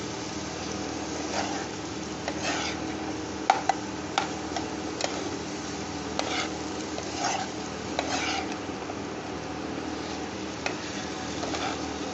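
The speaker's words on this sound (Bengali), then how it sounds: "মেটেটা দিয়ে আমি এর সাথেই কষে নিচ্ছি" Mutton liver stir-fried in a pan: a steady, moderate sizzle runs throughout, broken by repeated scraping stir strokes and light ticking taps of a spatula.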